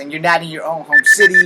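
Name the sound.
alarm clock ringing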